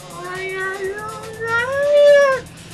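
A voice imitating a cat's meow, one long drawn-out wavering call that rises and then falls, loud and close, with no other talk over it.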